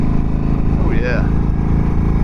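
A Harley-Davidson Dyna Fat Bob 103 motorcycle engine thrums loud and steady during a ride, with a voice briefly heard over the rumble and wind.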